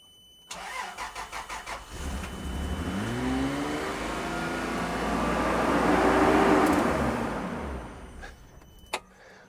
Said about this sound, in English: I don't know why it idled up like that on a brand new engine